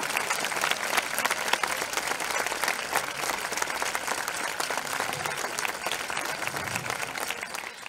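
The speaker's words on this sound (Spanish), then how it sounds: "a los que pido un fuerte aplauso por el esfuerzo" Outdoors at a summer festival dance performance, a crowd gives steady, moderately distant applause, a continuous wash of clapping hands lasting several seconds without speech.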